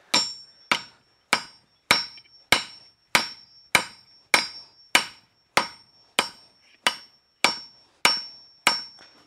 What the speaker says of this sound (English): Just using the edge of the anvil as a fuller to stretch this out a bit.